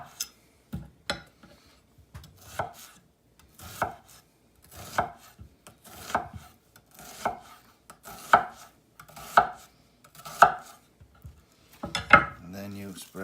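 A knife chops half an onion for a Greek salad in a steady run of about a dozen crisp, close cuts, each a sharp knock against the cutting surface with brief pauses between strokes.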